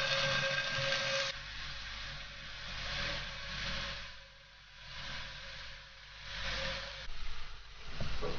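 Winter melon pieces dipped in soy sauce pan-fry in a wok, producing a steady broad hiss that swells and eases in waves.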